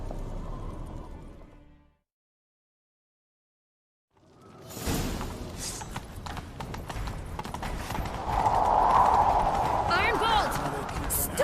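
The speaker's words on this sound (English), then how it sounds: "Grab a horse, we'll chase him down." A horse's hooves clop in a fast galloping rhythm in The Witcher 3: Wild Hunt after a brief silence, growing louder, with wind rushing and a voice talking in the mix.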